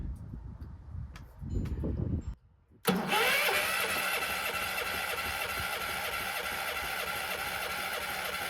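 A generator engine with a freshly rebuilt carburetor turns over roughly, goes briefly quiet, then catches and runs loud and steady close by for several seconds.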